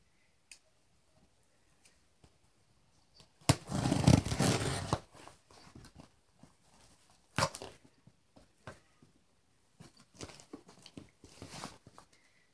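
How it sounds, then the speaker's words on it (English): Scissors cut open a cardboard box, giving a quiet room scattered clicks and ticks followed by one louder rasping, crunchy cutting stretch and a few later sharp snips and rustles. "we're going to cut the box open"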